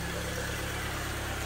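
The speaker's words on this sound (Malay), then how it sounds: "Kereta Wira sudah hidup." A Proton Wira fitted with a turbocharged 4G15 engine idles steadily up close, a continuous low rumble with faint vibration and no voices.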